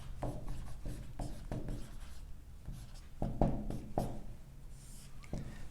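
A pen or marker writes out a math solution on paper or a board in a lecture setting. Clustered scratchy strokes and taps come in quick bursts, close and moderately soft, with no talking.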